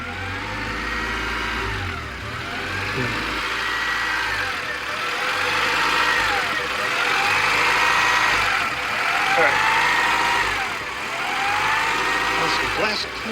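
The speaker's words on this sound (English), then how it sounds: "It's not idling very well." A 1990 Honda Accord EX engine idles roughly nearby, its pitch rising and dipping in slow repeating surges, with someone speaking briefly over it.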